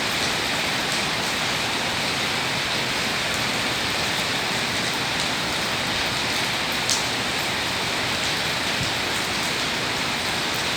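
Steady rain falls on a morning, a loud, unbroken hiss of drops on surfaces that continues evenly for about eleven seconds, close by and with no voices.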